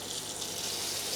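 Cold tap water running steadily for cooking rice, a continuous soft hiss of flowing water with no breaks or voices.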